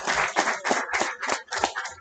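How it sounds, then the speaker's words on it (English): A small crowd at a barber bootcamp graduation ceremony claps in a brief burst, about a dozen uneven hand claps, close and moderately loud, with no one speaking. "Give a big round of applause."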